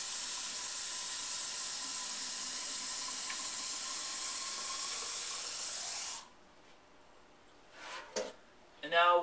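Cold tap water runs steadily into a hookah vase, a constant close hiss of flowing water that stops abruptly, followed by a few brief clinks and handling sounds.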